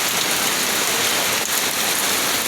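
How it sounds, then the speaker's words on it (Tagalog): Heavy typhoon rain pours down in a loud, steady roar on a mountain hut, drumming hard on surfaces without letup. "Biglang lumakas yung ulan."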